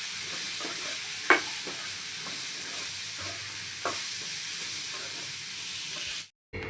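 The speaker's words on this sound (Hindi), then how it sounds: "सब्जी बन रही है मेरी एक साइड पे" Vegetables and onions frying in a pan give a faint, steady hiss with a few light clicks of stirring, quiet and continuous until a short cutoff near the end, no talking.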